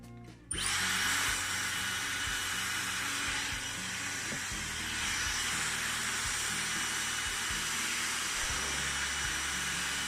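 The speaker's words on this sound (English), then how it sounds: "Taking our hairdryer, taking our section." A Dyson Supersonic hair dryer roars loudly and continuously after a brief quiet start, with faint clunks and handling noises beneath.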